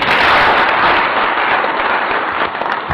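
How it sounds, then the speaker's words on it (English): Audience applause at a capital market hearing, a loud, dense wash of many hands clapping at close range, steady for the full few seconds with slight tapering at the end. "another round of applause"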